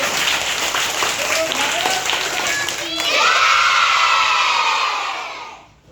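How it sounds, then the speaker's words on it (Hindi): Children applaud together in a classroom, a dense crackle of many small hands that swells in the second half, with some voices and chatter mixed in before fading out at the end. "जोरदार ताली बजाइए"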